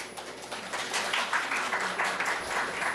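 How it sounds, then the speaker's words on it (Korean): Audience at a Korean panel discussion on local cable TV channels clapping to welcome a university professor, a moderate, fairly even patter of hands that swells slightly partway through, heard alone. "힘찬 박수 부탁드립니다"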